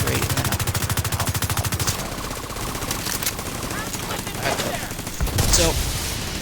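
Rapid automatic fire from the Bighorn rifle in The Division 2 rattles loud and close, a dense burst for about two seconds before settling into scattered shots and game effects with a louder crack near the end.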